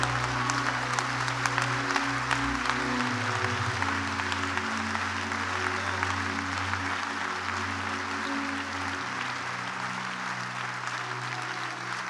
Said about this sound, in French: Give a clap offering to the Lord.